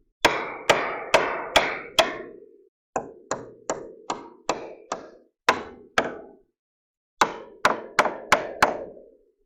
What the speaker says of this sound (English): you still need your hammer to get it in place